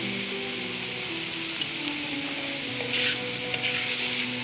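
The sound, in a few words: stir-frying cabbage and capsicum for vegetable macaroni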